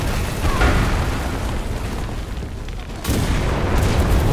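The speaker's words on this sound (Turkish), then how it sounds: "Tankı patlattım." A tank exploding in the video game Enlisted, a heavy booming blast with rumbling noise that fades and then surges again near the end, with no voices.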